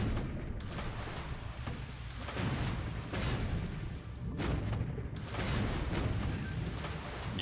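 A dull internal explosion in the naval wargame War in the Pacific, a steady low rumbling roar with a few swelling booms, fairly faint and continuous.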